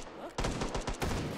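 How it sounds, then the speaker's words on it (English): A grenade blast in the VR shooter Hot Dogs, Horseshoes & Hand Grenades, a sharp burst followed by a quick string of cracking gunfire-like bangs, close and loud, after a quiet start. "Oh, someone threw a grenade."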